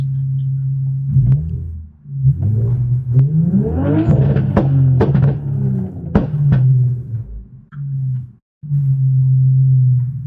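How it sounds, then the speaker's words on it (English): A car engine drones steadily, then revs up in a rising whine with sharp bursts before dropping off briefly and idling again. "He's revving his engine."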